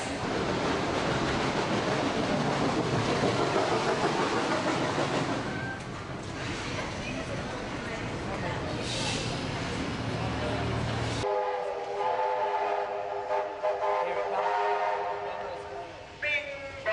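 The Cadbury Joyville train running through Sydney, a loud rumbling rail passage with horn-like tones, fading into quieter clanking and a more distant hum as voices talk over it.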